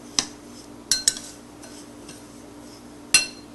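A spoon stirring salted rava idli batter in a bowl, with four or five sharp, bright clinks of metal on the bowl spaced out over quiet, close-up mixing.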